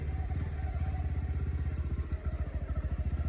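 A motorcycle engine chugs in a steady, rapid pulse while the bike rides over a rough, rain-damaged off-road link road in the Karsog valley, loud and close throughout.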